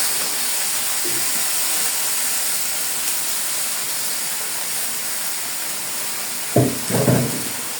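A pan of mixed vegetables added to cooked-down spices and softened onion gives a steady, fairly loud frying hiss throughout, with a couple of sharper clattering bursts near the end.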